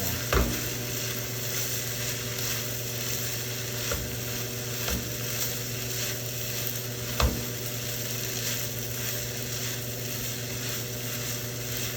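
Fried rice with soy sauce tossed in a big wok, a steady scraping and clattering stir under a faint sizzle, with a few sharper knocks of the utensil against the pan.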